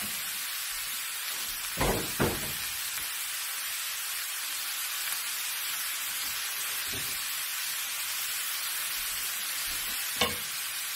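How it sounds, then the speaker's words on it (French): Ginger and onion frying in a pan with caramelized pork ribs, a steady broad sizzle with a few louder bursts of stirring or ingredients hitting the hot fat, no voices. "On va rajouter le gingembre et l'oignon."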